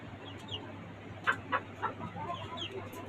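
Tiger chicken chicks, red and white, on a small rooftop chicken farm in Dhaka, giving a few soft clucks and peeps over a steady low background hum, with no talking.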